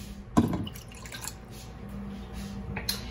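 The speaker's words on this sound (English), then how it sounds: "to that, I'm gonna add a 1/2 cup of water" Half a cup of water poured into a bowl holding two cracked eggs gives a short splash near the start, then quiet drips and faint kitchen room tone.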